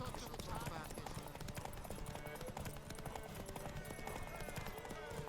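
Roach, a horse in The Witcher 3, gallops in a race with steady rapid hoofbeats over loud game music and effects, running continuously throughout.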